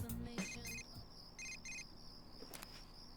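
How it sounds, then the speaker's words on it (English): A text message notification in Persona 4 Golden, a quiet pair of short electronic chime bursts followed by a brief bright tone. "We received a text message."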